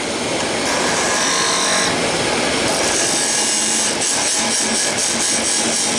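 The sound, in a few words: wood lathe running, skew chisel cutting wood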